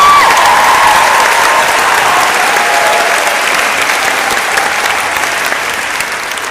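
Loud, dense applause fills a concert hall in thanks to the National Concert Hall stage team at a finalists' prize-giving concert, sustained and gradually fading toward the end.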